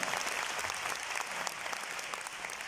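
An audience in a motivational seminar hall breaks into loud, dense applause, a steady wash of clapping throughout with no one speaking.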